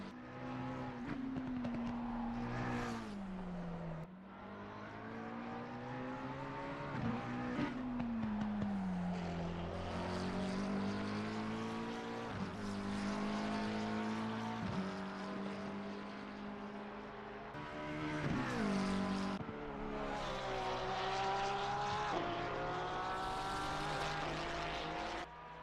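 A race car laps the Nordschleife in a sim racing game, its engine note loud and continuous, climbing through the revs and dropping sharply at each gear change, with no talking.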